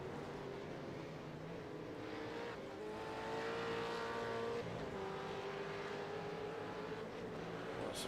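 V8 Supercars engines roaring in a sim racing endurance race at Magny-Cours, a steady sustained drone of several cars in a close pack, rising and falling in pitch as they pass, with no talk over it.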